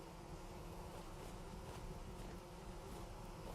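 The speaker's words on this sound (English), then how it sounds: "bees." Bees buzz steadily and loudly in the Vintage Story video game, a continuous insect drone lasting the whole moment with no voices.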